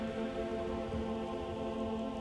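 Steady rain pours in the video game Skyrim, an even, unbroken wash of falling drops that holds constant throughout, with a faint tonal hum beneath and no voices.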